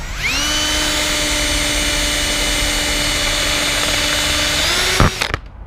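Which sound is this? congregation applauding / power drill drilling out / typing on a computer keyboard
power drill drilling out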